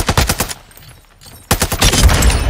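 TAQ V rifle firing in the video game Modern Warfare 2: loud rapid automatic bursts, a brief pause, then another sustained burst, with no voices.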